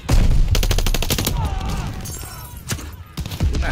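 Gunfire in Call of Duty Vanguard on hardcore Kill Confirmed, rapid bursts of automatic shots at the start followed by more scattered loud shots, close and dense.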